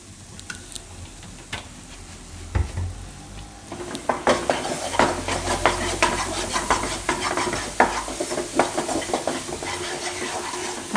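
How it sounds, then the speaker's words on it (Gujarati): Garlic khichu, a rice flour dough, is mixed and cooked in a pot on low heat, opening with a few faint clinks before dense rhythmic scraping and stirring takes over, close and fairly loud. "આ રીતે મિક્સ કરી દેવાનું સરસ."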